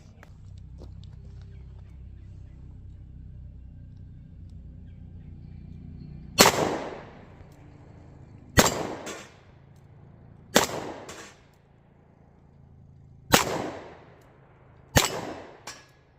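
Five sharp, loud revolver shots from a Smith & Wesson 637 Airweight .38 Special snub-nose, fired double action two-handed from about 15 yards, spaced irregularly a second or two apart, each with a short decaying ring.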